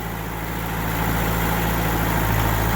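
A Kioti DK45S tractor that sat outside for three years at a golf course, its diesel engine running loud and close with a steady, even idle-like drone as it begins to roll.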